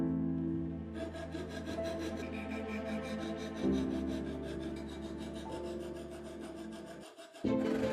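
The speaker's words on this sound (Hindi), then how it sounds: "इसलिए हम इसे रेती की मदद से और घिसेंगे" Edges of a knife made from compressed kitchen foil filed with a hand file, a steady close rasping scrape that runs for several seconds over a faint background hum, without any voices.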